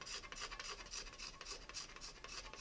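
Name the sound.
scraping stain off the sturgeon-skin back of a bow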